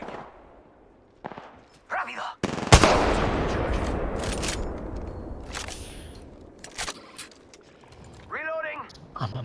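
Rapid gunfire bursts crackle through an Apex Legends firefight, a sustained volley from about 2.5 seconds after a few sharp shots, with voices chattering over the fighting.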